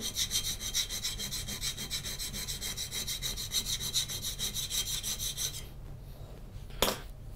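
A lacquer-coated blade is ground on an extra-coarse sharpener in quick rhythmic rasping strokes, close and steady for several seconds, then the grinding stops and a single sharp knock follows.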